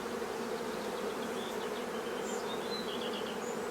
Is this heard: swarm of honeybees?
yes